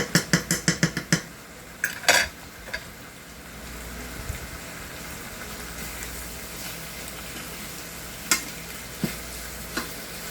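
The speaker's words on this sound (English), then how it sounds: "Y'all know we gotta cook these eggs overdone." Eggs frying in a pan for a home-cooked breakfast: a steady soft sizzle runs throughout, opened by a quick burst of sharp rhythmic taps and clinks of utensil on pan, with a few later scrapes and knocks.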